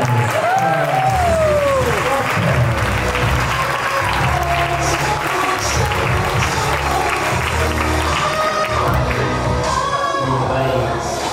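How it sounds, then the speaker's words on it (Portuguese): A crowd at a Christmas party breaks into sustained loud applause, dense and continuous, with scattered voices and a few calls mixed in. "Salve palmas!"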